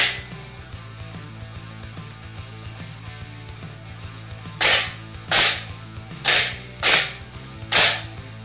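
A homemade coil gun fires a nail into a fixed can, giving five sharp, loud bangs spaced under a second apart over a steady background hum.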